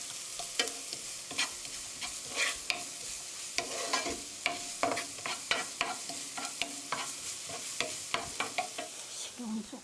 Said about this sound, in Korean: 파기름 내는 거예요